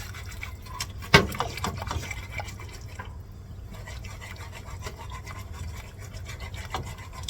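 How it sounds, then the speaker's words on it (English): Sweet and sour sauce thickened with cornstarch and water bubbles in a pot, with soft liquid churning and light stirring scrapes and a sharp clink near the start, steady and close throughout. "Let that boil, let that stir a little bit before it gets thick."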